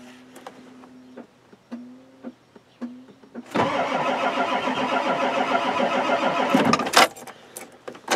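A Ford F-250 XLT 7.3L IDI diesel with faulty glow plugs cranks for about three and a half seconds without catching. The steady churning turnover is loud and close and cuts off abruptly. Softer clicks and key-like rattles come before it.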